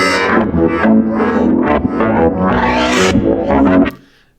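Synthesizer playing a dense, sustained tone with resonance and reverb effects switched on, bright and muddy with rising filter sweeps, continuous and loud before cutting off near the end.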